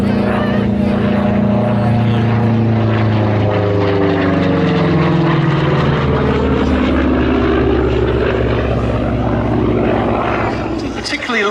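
A Republic P-47D Thunderbolt single-engine fighter drones loudly overhead at an air show, its propeller roar rising and sweeping in pitch as it passes close by, with a voice talking under the engine noise.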